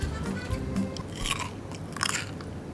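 Crunchy skin of an Oktoberfest pork knuckle is bitten and chewed up close, a loud series of crackling crunches and wet chews with no talking.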